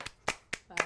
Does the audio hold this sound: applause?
yes